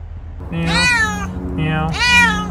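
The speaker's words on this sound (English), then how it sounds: "Meow." A cat meows twice, close and loud, each call rising and then falling, with a short pause between them over a low background hum.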